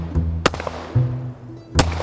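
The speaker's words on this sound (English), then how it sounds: "The gunshots echo off the hills, and then silence." A few sharp, loud gunshots ring out separately in the Superstition Mountains, each echoing off the hills, with stretches of quieter rumble between them.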